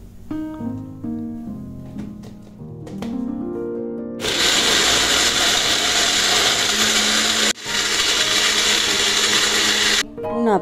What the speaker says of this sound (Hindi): हुण आपां इसनूं ग्राइंड कर लवांगे